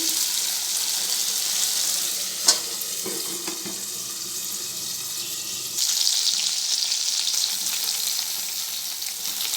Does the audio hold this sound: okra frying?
yes